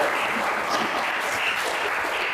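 A classroom group claps together during a geography lesson, a continuous, dense burst of applause that stays loud and even throughout.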